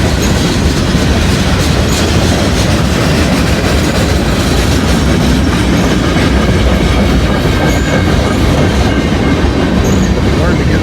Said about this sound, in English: About a mile and a half long train here.